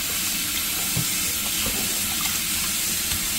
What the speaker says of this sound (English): Okay, so I'm gonna add some water to it